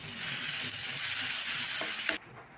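Ground coconut chutney paste with turmeric fries in hot oil, a loud, continuous close sizzle that cuts off abruptly near the end, leaving a faint hiss, with no talking.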